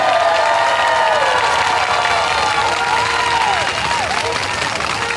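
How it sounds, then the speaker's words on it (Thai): A large outdoor political rally crowd claps and cheers to welcome a speaker, a loud, continuous roar of applause with shouting voices rising and falling throughout. "ปรบมือต้อนรับธนาวุฒิวิชัยดิษฐ์ครับพี่น้องครับ"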